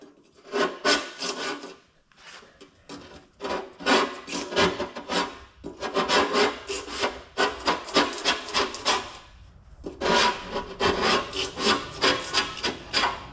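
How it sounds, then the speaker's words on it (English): Old carpet glue scraped off a boat deck by hand, heard as close, rhythmic bursts of harsh rasping strokes repeated in quick runs with brief pauses between them, and no talking. "work your way around however you have to get all this glue scraped off"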